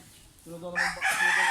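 A rooster crows once, close and loud, a short harsh call that rises and then trails off after a brief low lead-in.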